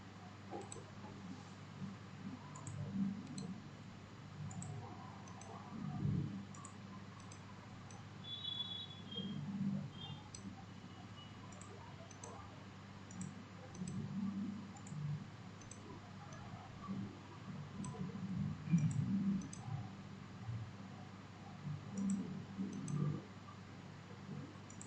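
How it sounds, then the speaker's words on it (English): Computer mouse clicks while working in multi-axis milling CAM software, faint and sparse, spaced irregularly every few seconds over a quiet steady background hum. "middle click to add new set"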